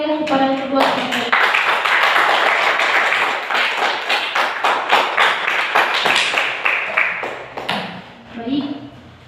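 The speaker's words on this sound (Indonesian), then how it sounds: "Beri tepuk tangan yang meriah kepada kedua peserta" An Islamic boarding school seminar audience gives a burst of lively, sharp hand clapping that lasts several seconds, with speech just before and after.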